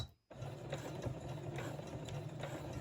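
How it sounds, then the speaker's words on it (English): A sewing machine stitching bias-bound bunting fabric runs with a steady, close mechanical whirr and rapid needle chatter, starting after a brief silence and continuing without pause. "I'm going to do 3 little stitches"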